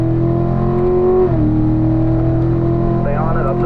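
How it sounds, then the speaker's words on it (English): A car on a track straightaway runs at full throttle, its engine droning loud and close, then dipping in pitch at a gear change before pulling steadily again, with a brief voice near the end. "Let's accelerate all the way to the floor. Wind it out up to 4th."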